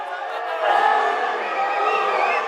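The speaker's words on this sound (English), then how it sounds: "Bit more booing." Football crowd at a Kings League match sustaining a broad, steady jeer that swells slightly midway, a continuous massed roar of booing with no single voice standing out.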